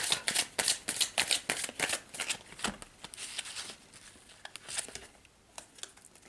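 Oracle cards are shuffled and drawn by hand, a steady run of quick, crisp riffling flutters that slows into softer, scattered slides and taps near the end.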